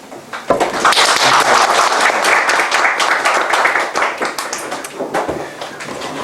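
Lecture-hall audience applause for a guest speaker at a law school event, a burst of close, crisp clapping that starts abruptly, holds, and tapers off in scattered claps.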